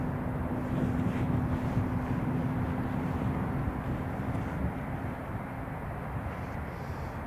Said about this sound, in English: KLM Embraer 195 E2, I believe,